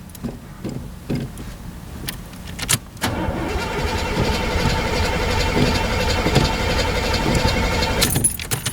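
An old Cutlass car's starter cranks in short, uneven bursts with a faint jingle of keys, then a steady, loud engine roar continues close by.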